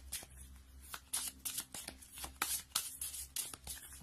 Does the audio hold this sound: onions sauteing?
no